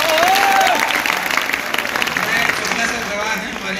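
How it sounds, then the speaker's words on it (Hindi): College audience at Invertis University in Bareilly claps loudly for guests, a thick wash of applause that thins out over a few seconds while voices and cheers carry through. "सबसे पहले तो इन लोगों के लिए जोरदार ताली होनी चाहिए"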